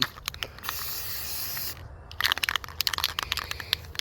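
Aerosol spray paint hissing onto the shoulder of an Aerotech Sumo model rocket, a steady close hiss broken by a short pause and then a run of quick bursts.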